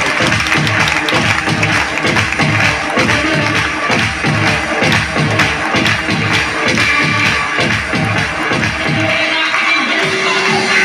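Loud, dense applause from a large audience at a motivational business gathering, steady rhythmic clapping that carries on without a break for about nine seconds before cutting off.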